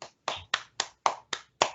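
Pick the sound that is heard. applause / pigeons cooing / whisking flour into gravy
applause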